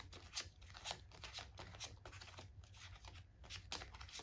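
Quick riffling bursts of cards being shuffled, repeated in a steady rhythm of soft crisp flutters, close and fairly quiet.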